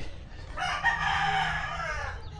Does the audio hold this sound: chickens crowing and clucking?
yes